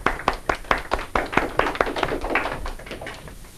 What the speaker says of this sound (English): I think we're supposed to clap.